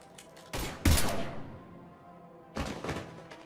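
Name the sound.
gunfire in video game Mass Effect 3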